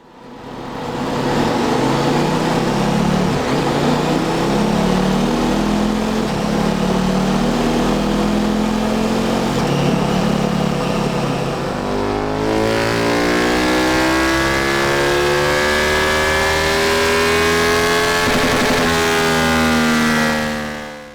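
A stock Euro 5 KTM 1290 Super Duke R motorcycle engine runs hard on a dyno, a loud, close, sustained roar that climbs steadily in pitch through a long pull, then shifts tone midway and keeps revving higher.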